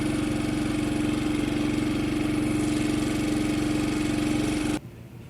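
A Champion 5500 dual fuel inverter generator runs steadily in econo mode, a loud, even engine hum with a fixed tone, cutting off abruptly near the end to near silence.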